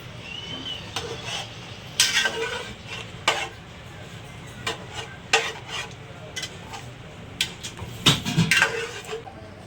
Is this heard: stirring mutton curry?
yes